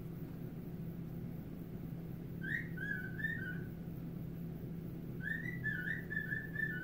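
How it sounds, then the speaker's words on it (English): A pet bird in a home gives two short bursts of warbling whistles, the first brief and the second longer, faint over a steady low hum with no talking. "You can hear my daughter's bird."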